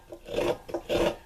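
Coconut meat being grated by rubbing it against a metal spur, giving repeated raspy scraping strokes in a steady back-and-forth rhythm, close and fairly loud with no talking.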